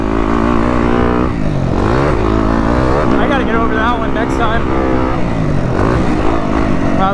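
A Yamaha YZ250F dirt bike engine roars on a motocross track, loud and close, rising and falling through repeated revs and gear changes, with wind noise over it.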